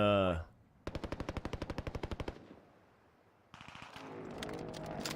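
Rapid automatic gunfire from a weapon in Call of Duty Warzone, about fifteen sharp shots in an even burst, followed by quieter game ambience and a brief voice at the start.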